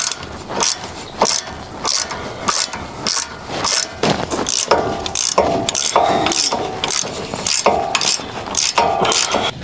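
A ratchet wrench with a 15mm socket works a shock absorber bolt under a 2024 Ford Mustang, giving a steady run of sharp, close, evenly spaced clicks in quick bursts for the whole stretch, with no talking.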